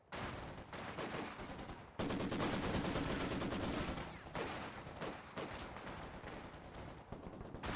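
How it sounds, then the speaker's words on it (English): Dense gunfire and explosions fill a World War II real-time strategy game battle as an anti-tank gun takes the field, a continuous loud barrage of overlapping shots and blasts with no talking. "We are taking fire!"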